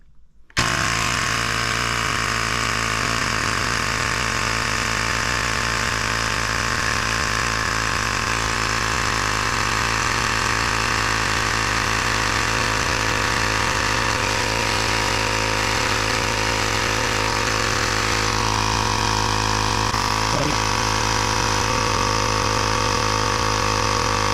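LASFITAIR CR1 portable tire inflator running steadily as it pumps a tire up to 35 psi, a loud continuous motorized buzz with a rapid pulsing compressor rattle, constant throughout with no talking.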